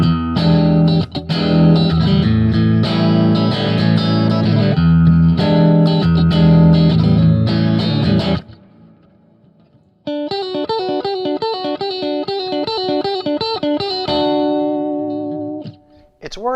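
Electric guitar through a Deluxe Reverb amp model on a Positive Grid Spark: loud driven strummed chords, a short near-silent pause, then bright picked arpeggiated notes with reverb tails ringing out, no talk.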